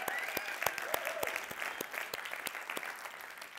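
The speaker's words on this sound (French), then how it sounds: "Une bonne main d'applaudissements encore." Studio audience applauding on a French-language talk show, dense steady clapping with sharp individual claps standing out, fairly close and sustained throughout.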